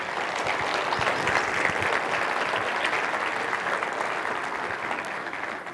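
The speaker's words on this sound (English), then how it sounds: "If you enjoyed that, give them a round of applause" A church congregation gives a steady round of applause for the cast of an Easter play at a tabernacle, a continuous, fairly distant wash of many hands clapping with no talk over it.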